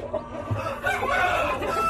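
A brooding hen sitting on a clutch of eggs, with two still unhatched, gives off steady, fairly close clucking and low fowl murmurs that continue without pause across the moment.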